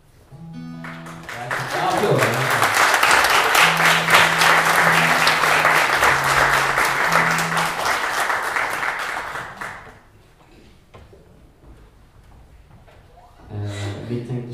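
Sustained applause from a concert audience for a live Swedish folk song performance, building quickly and holding steady for about nine seconds before fading, with faint voices and sung notes over the clapping and a brief burst of sound near the end.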